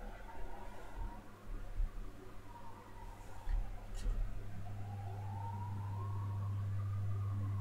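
A standard ambulance siren wails faintly in the distance, its tone slowly rising and falling and growing a little steadier toward the end, under a low background hum.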